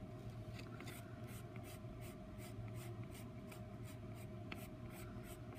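A Prismacolor colored pencil shades on paper with steady, rhythmic scratchy strokes, close and faint, repeating about twice a second over low background hum.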